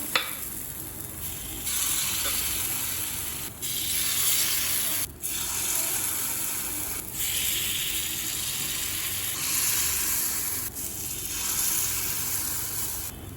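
Wheat flour kuzhi paniyaram batter cooking in a little oil in a paniyaram pan, giving a steady close sizzle and crackle that runs the whole time, with a few short gaps and some light scraping.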